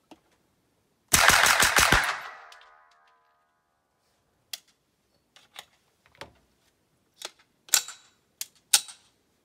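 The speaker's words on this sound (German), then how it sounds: "Ich schieße jetzt mal 5 Schuss." H&K MR223 rifle with a .22 conversion fires a rapid burst of sharp cracks with a trailing echo, followed by scattered single sharp clicks and knocks spaced over the following seconds.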